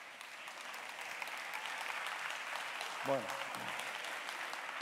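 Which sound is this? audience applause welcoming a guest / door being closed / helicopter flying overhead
audience applause welcoming a guest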